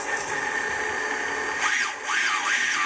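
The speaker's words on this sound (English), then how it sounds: "So even at lowest stick position, your motors will be spinning." FPV drone motors spinning at lowest throttle in air mode give a steady high electric whine that rises and falls in pitch in short swoops near the end, close and moderately loud.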